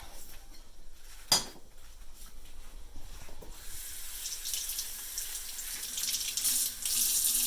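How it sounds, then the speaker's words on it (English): Tap water runs steadily into a sink while rinsing leeks, with a brief clink near the start and rushing water that grows brighter and louder toward the end. "then I'm going to rinse them under water."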